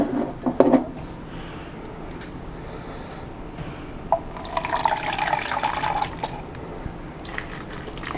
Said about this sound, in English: And now you are going to put a quarter cup of water.